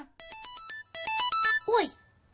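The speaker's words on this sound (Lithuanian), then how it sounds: "Atėjo žinutė." A short melodic phone text-message notification chime of quick rising notes plays, ending in a brief swooping tone, clear and close with no talking.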